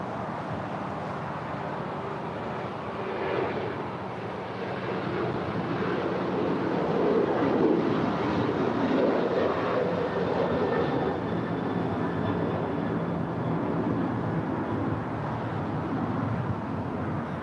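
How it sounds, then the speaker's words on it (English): An Atlas Air jet departing LAX on runway 25 left gives a steady, continuous roar of jet engines, broad and sustained at moderate distance, swelling slightly midway without any talk. "we do have that Atlas Air Queen lining up for departure on"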